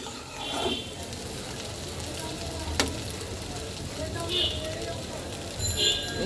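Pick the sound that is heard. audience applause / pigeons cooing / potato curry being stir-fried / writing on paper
potato curry being stir-fried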